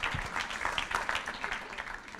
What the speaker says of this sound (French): un applaudissement pour elle